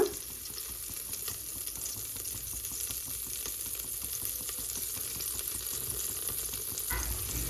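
Fat melts in a hot pan for crab soup, a soft steady sizzle with faint crackles that runs throughout, quiet and unbroken, ending in a small clatter of utensils near the close.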